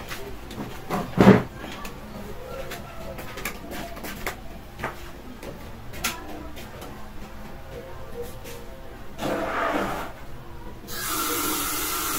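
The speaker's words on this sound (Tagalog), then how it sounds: "Lagyan ko muna tubig." Water runs into an electric kettle under switch repair, mostly quiet handling and small clinks at first, then a short hissing pour and a steadier rush of water near the end.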